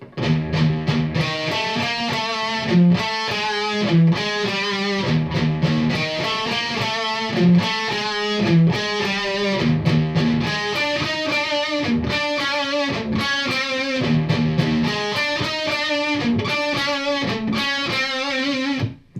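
A heavily distorted electric guitar plays the first eight bars of a thrash metal riff, loud and chugging with palm-muted bursts, steady and driving throughout, with no voices.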